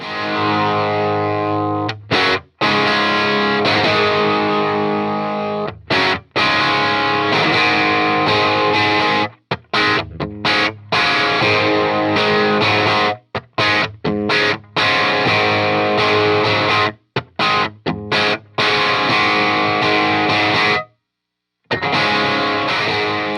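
Electric guitar played through a Custom 100 tube amp, thick and overdriven, with sustained chords and riffs separated by brief silent breaks.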